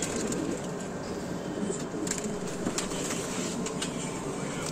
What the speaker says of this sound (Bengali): খুব ভালো কোয়ালিটির পায়রা।